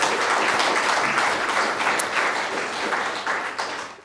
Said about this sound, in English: Can we have another round of applause for Akea?